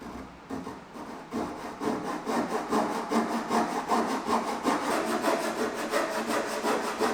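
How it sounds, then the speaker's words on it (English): Hand saw cutting through wooden trim pieces along a marked line for a boat build, with a steady back-and-forth stroke rhythm repeating close up throughout. "Cut these pieces of trim on that line and get them to meet up in the center."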